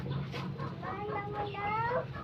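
Chickens cluck and murmur up close in a rural hillside setting, with a steady low background rumble and people talking nearby over the fowl sounds.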